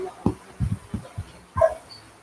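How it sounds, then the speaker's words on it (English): Several farm dogs bark and whimper in short, uneven bursts at a moderate distance, with a sharper yip near the end and no talk over them. "the dogs go crazy"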